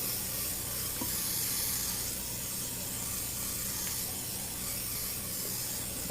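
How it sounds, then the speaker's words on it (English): A pressurized oil mister bottle sprays cooking oil in a steady, continuous hiss like an aerosol can, lasting the whole stretch at close range with no talking. "this will spray like an aerosol can"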